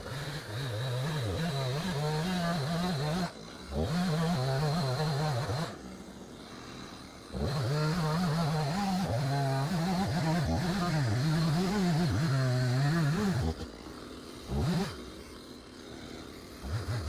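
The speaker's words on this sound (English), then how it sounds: "I'm going to come back here with my saw here now and cut this stump off" A chainsaw cuts through a tree stump in the woods, the engine revving and bogging in repeated bursts with short idling pauses between cuts, loud and close.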